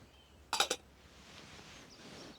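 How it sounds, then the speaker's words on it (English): A lid is set onto a small pot on an ultralight camping stove, a quick cluster of two or three bright metallic clinks up close, followed by near silence. "And we'll chuck the lid on"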